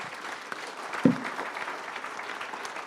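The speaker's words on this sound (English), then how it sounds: "big round of applause for these guys" Steady crowd applause at a brewing-industry meetup during the Great American Beer Festival, a continuous wash of many hands clapping at an even level, with one louder close thump near the start.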